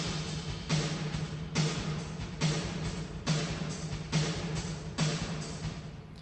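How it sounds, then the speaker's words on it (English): Snare drum with a large reverb effect, struck in a steady repeating pattern of about seven hits, each burst trailing into a long, bright wash that fills the gaps between strikes. "So, the reverb sounds like this."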